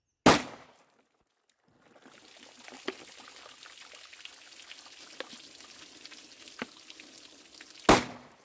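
A Glock 36 pistol fires into a water-filled jug about ten feet away: two sharp, loud gunshot reports roughly seven seconds apart, with faint splashing and dripping water between them.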